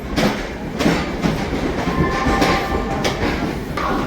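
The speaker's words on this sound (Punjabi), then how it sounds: "ਲੋ ਜੀ ਦੋਨੇ ਟ੍ਰੇਨਾਂ ਉਹ ਵੀ ਤੇਜ਼ ਹੋ ਗਈ ਆ" A train accelerates away from Ambala Cantt railway station, rumbling steadily close by, wheels clattering rhythmically on the rails with brief metallic screeches, a continuous roar with no talking.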